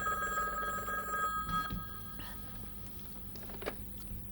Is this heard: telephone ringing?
yes